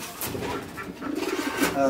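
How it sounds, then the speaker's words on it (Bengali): A large, adult foreign-breed pigeon weighing about 600 to 700 grams coos at a pigeon farm, soft low rolling calls close by, partly under a man's speech. "অনেক বড় জাতের কবুতর"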